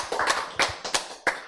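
Clapping from an audience at a Korean Bible lecture, with a handful of sharp, irregular claps close by and no talk over them.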